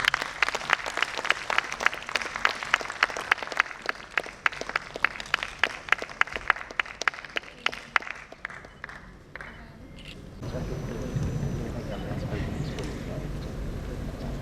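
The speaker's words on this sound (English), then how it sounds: "Give a big round of applause." Audience applause at a medical conference session, with sharp, regular claps that fade out after about ten seconds, followed by a quieter room ambience.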